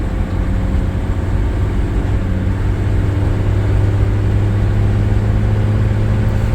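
Six-cylinder engine of a 1958 Plymouth Plaza running on the move, a loud, steady low drone with road rumble from inside the car, continuous and unbroken, no one talking.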